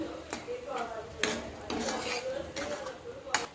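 A metal spoon scrapes and clinks against a pan in short bursts while tomato paste is stirred in oil, with a soft frying hiss underneath.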